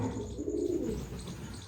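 A pet pigeon pair gives a low, soft coo, faint and brief against a quiet indoor background.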